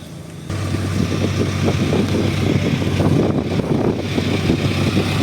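Hyundai inboard engine running aboard a Philippine fishing bangka, a loud, steady low drone with a constant hum that starts abruptly and continues unbroken, mixed with wind noise on the microphone.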